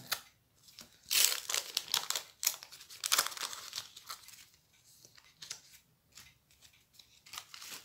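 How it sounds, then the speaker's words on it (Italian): Panini 2021 football sticker packets being torn open and crinkled by hand, close crackling wrapper noises in irregular bursts with short pauses between. "E adesso li apriamo e vediamo all'interno dei pacchetti omaggio chi troviamo."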